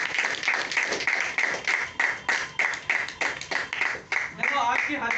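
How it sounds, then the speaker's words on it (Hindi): An audience at a business presentation claps continuously, a dense but fairly even patter of many hands with no cheering. "तालियों में दम नहीं था"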